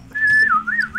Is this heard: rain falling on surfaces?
no